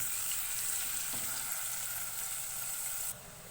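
Chopped onion softening in hot oil in a pan for a mixed vegetable curry, a continuous close sizzle with a brief stir partway through, easing slightly quieter near the end.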